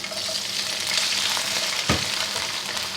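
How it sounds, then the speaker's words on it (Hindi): Chillies frying in reused oil in a second pan, a dense continuous sizzle with a single sharp knock partway through, no talking. "इसमें हम अपनी चिल्ली को फ्राई करेंगे।"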